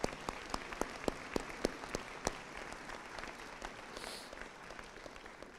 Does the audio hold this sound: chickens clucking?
no